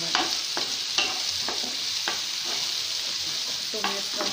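Veg manchuria frying in a pan for a restaurant-style dish, a steady loud sizzle with periodic scraping stir strokes roughly every half second, close up with no talking.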